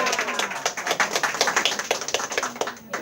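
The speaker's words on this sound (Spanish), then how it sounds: "Un aplauso para ella." Audience applause for a doctor at a health seminar: a small crowd claps in quick, uneven bursts for about three seconds, close and fairly loud, with no talking.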